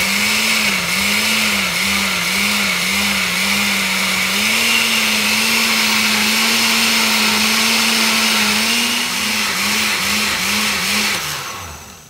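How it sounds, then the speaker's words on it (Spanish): An electric blender grinds habanero chili and mango for salsa, a loud whirring motor that pulses in short bursts, holds a long steady spin, then pulses again before winding down at the end. "cuando las pica uno, las muele en la licuadora"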